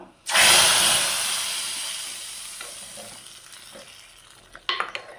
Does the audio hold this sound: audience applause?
no